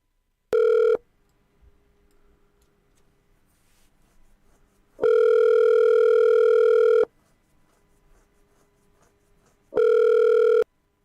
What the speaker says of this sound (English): this is my call to Cheryl Chapman earlier today